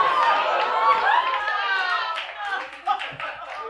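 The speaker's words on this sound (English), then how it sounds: "Groans to applause, my favorite reaction." Comedy club audience at the Comedy Cellar shifting from groans to applause, with a murmuring, drawn-out vocal reaction from the crowd fading into scattered clapping.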